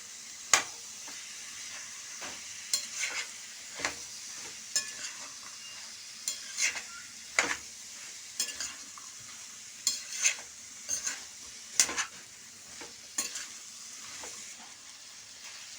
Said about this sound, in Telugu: ఇప్పుడు కొద్దిగా ఫ్లేమ్ పెంచుకొని ఒకసారి ఇవన్నీ కలిపేసుకుందాం